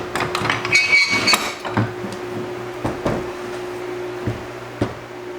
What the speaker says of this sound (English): I'm going to clamp it together.